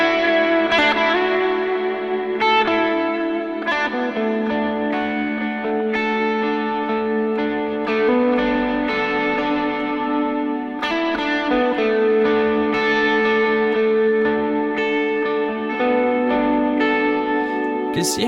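An electric guitar runs through a worship pedalboard, its notes swelling into a lush ambient pad with constant, washing reverb and shimmering sustain, layered chords blending smoothly and playing alone without talk.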